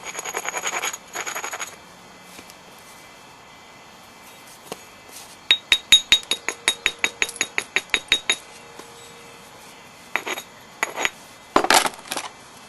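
A novaculite laurel leaf point is flintknapped, with a rapid run of about a dozen sharp, glassy clicking strikes, close and crisp, followed by a few scattered taps and scraping chinks.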